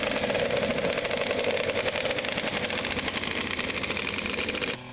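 A motocross motorcycle warms up on a small practice track, its engine holding a steady, loud, buzzing drone with rapid firing pulses for several seconds before cutting off abruptly at the end.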